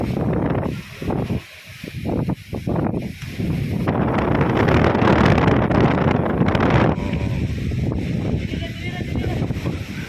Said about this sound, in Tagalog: malakas ang hangin yan